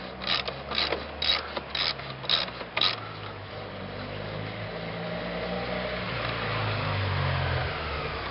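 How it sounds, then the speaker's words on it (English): A 13mm socket ratchet clicks in six quick, evenly spaced bursts while loosening tight, corroded alternator bolts on a Ford Super Duty, then gives way to a low mechanical hum nearby, with no talk. "Now we got a 13mm socket ratchet, and we're going to pull these bolts off."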